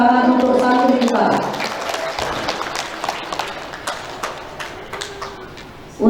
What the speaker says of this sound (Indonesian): Kita beri tepuk tangan untuk santri kita.